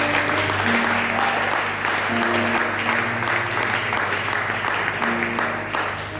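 A church congregation applauds in a steady, dense wash of clapping that carries on throughout, with sustained musical tones and a few voices underneath.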